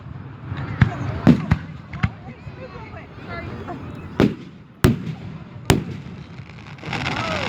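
Fourth of July fireworks in Delaware, Ohio boom in several sharp, loud bursts spaced a second or so apart, with crowd chatter and exclamations in between and crackling toward the end.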